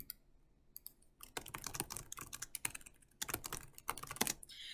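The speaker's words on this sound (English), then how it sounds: "I can start typing in information." Someone types on a computer keyboard in bursts of rapid clicky keystrokes separated by short pauses, close and clear with no talking.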